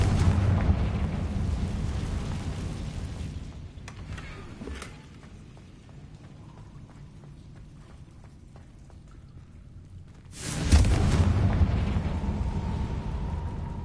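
A Confringo blasting spell explodes in a Harry Potter video game: a loud, rumbling blast fades into a quieter stretch, then a second powerful burst erupts and roars on until the end.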